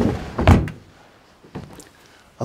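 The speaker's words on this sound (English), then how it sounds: "All the drawers run beautifully." A drawer on a top-grade antique furniture piece slides shut with a soft wooden thunk, followed by a couple of fainter knocks, close by with no talking.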